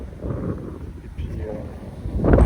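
Wind blowing outdoors in a vineyard, low rumbling gusts buffeting the microphone and rising toward the end, under a person talking.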